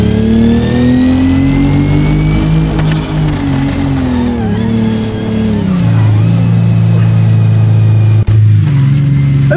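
Engine of an MK3 Jetta in the BeamNG driving game runs loud and continuous, revving up and down through gear changes with a strained, buzzy tone and no pauses.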